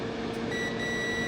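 A multimeter continuity beep while testing guitar cavity wiring: a steady electronic tone sounds close and clear through the short moment, alone over a faint background hiss.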